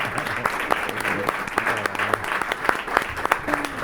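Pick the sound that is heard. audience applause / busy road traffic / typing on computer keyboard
audience applause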